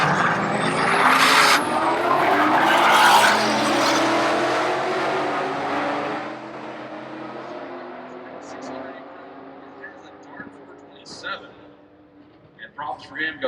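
Street cars racing at a Charlotte street car takeover, a Mustang and a Camaro: loud revving engines roaring past and fading into the distance, with crowd noise and scattered voices near the end.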